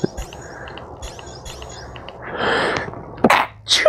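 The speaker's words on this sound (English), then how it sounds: "A sneeze and a yawn." A single close, sharp sneeze bursts out after a quiet stretch of faint chirping, followed by a breathy exhale.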